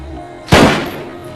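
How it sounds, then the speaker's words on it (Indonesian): A single loud gunshot from a film scene as a policeman shoots a driver, a sharp close blast followed by a short decaying tail over quiet background. "Kemudian si John atau polisi pecandu langsung menembak si driver"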